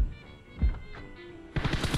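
PUBG gunfire crackles in short, sharp bursts, with a heavier thump partway through and a denser rattle of shots at the end.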